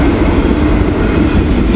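A train rolls past on CSX rail tracks during the afternoon rush, a loud, close, continuous roar of wheels on rail with steady rumble throughout.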